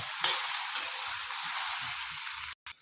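Green bean sabzi being stirred in a pan with peanut powder, a steady broadband sizzle with faint scraping, close and continuous, ending in a brief cut.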